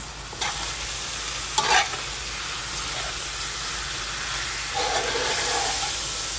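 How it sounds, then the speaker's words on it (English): Spoon stirring a one-pot arroz con pollo of chicken, cilantro and rice, with a steady sizzle and scraping strokes in the pot, close and continuous, no voices. "we're going to give this pot a good mix"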